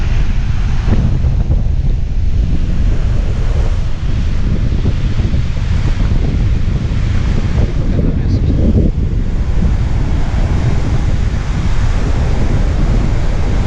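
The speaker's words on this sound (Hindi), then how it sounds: "अब ये देखें किस तरह फॉल का पानी किस तरह गिर रहा है" Niagara Falls crashes down in a loud, continuous roar, heavy and unbroken, with wind buffeting the microphone and a faint voice underneath.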